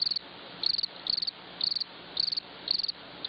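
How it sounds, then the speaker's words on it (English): A cricket chirps in steady, evenly spaced trills, each a quick pulse of shrill notes repeating about twice a second over a soft background hiss. "Some crickets."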